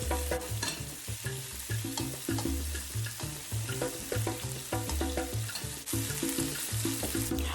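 A spoon scrapes and stirs through soffritto, herbs, tomatoes, wine and broth in a sizzling pan. The strokes are rhythmic and close, over a constant frying hiss.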